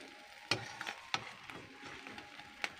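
Small fish frying in a pan, a soft steady sizzle broken by a few sharp crackles and pops spread across the moment, close and fairly quiet with no voices.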